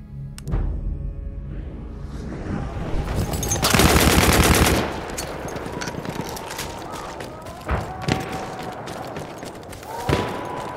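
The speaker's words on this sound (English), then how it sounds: "There's an enemy machine gun!" Enemy machine gun firing in the Battlefield 1 game, a loud dense burst of rapid automatic fire amid other battle gunshots and rumble, with a voice heard faintly underneath.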